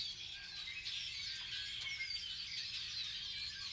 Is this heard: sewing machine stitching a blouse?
no